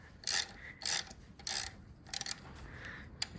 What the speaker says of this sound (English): Now we are going to loosen this bolt right here.